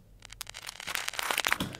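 Layered clicks mixed with a reversed breaking light bulb form a short house-beat sound effect: crisp crackling ticks that build into a dense, glassy crunch over under two seconds.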